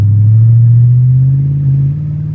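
Lexus LS400 engine held at partial throttle and breaking up, a loud steady low drone that flutters slightly without climbing, close to the microphone and heard alone.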